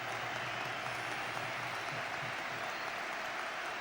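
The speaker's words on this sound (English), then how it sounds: "he's in no great hurry to get off the field, milking the applause" Steady applause from a large stadium crowd at a 1999/00 Premier League football match, Tottenham Hotspur vs Arsenal, a broad continuous wash of clapping and cheering with no pauses, heard from a distance.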